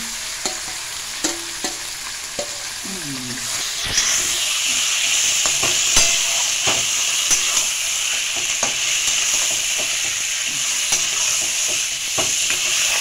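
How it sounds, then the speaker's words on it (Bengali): Marinated mutton poured into a hot pan sets off a sudden loud sizzle about a third of the way in, then a steady frying hiss continues, broken by scattered stirring clicks and scrapes. "এবার মাংসটাকে ঢেলে দিচ্ছি।"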